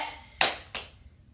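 Two sharp hand claps ring out close and loud in quick succession, each with a short decaying tail in a quiet room.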